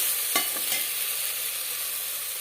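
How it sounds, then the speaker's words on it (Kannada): Chopped tomato frying in a pan with onions for red rice flakes uppitu, a soft steady sizzle with a few clinks of a spoon stirring early on, quiet and close. "1 ಟೊಮೆಟೊವನ್ನು ಹೆಚ್ಚಿಟ್ಕೊಂಡು ಹಾಕ್ಕೊಳ್ತಾ ಇದ್ದೀನಿ."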